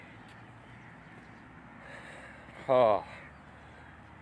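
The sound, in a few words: birds calling outdoors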